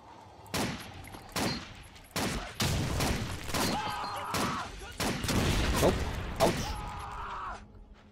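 Repeated bursts of gunfire in the video game Blade of Agony, loud volleys and rapid shots in several separate clusters, some ringing with a sustained tone, filling most of the stretch.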